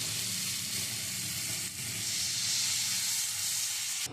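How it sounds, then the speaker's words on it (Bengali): Jackfruit curry in a pan hissing and sizzling loudly as a little water hits the hot spices, a continuous close steamy hiss that swells midway and cuts off at the end. "আমি একটু জল দিয়ে দেবো"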